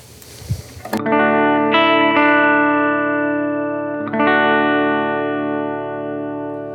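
After a brief rustle, electric guitar chords through a Roland CUBE-10GX amp ring out with long, washy reverb tails, a few strums sustaining loudly and fading into the space.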